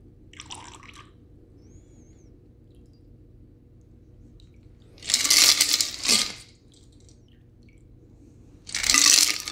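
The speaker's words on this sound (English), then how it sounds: "let's pour into a chilled martini glass." Pumpkin spice old fashioned cocktail poured into a chilled martini glass, heard as two short, fairly loud splashing bursts with a faint clink between, set in an otherwise quiet room with no talking.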